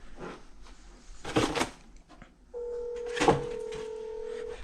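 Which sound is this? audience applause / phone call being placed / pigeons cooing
phone call being placed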